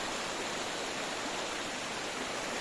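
Roaring waterfall heard from the top of the falls in Isabela, a steady, loud broadband rush of water that fills the whole span without a break.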